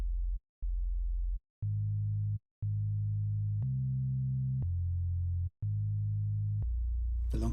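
An Ableton synth bass arpeggiator plays half notes with a shorter gate, giving a row of clean, steady sustained tones that step between pitches, each separated by a brief gap, with nothing else heard.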